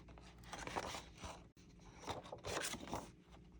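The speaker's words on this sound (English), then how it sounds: "Just make a little circular cut." Scissors cut a small circle out of paper for an Easter planner calendar, snipping and scraping in two close bursts separated by a brief pause.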